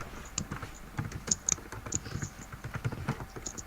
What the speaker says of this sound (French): Par contre, je l'entends, là, avec son clavier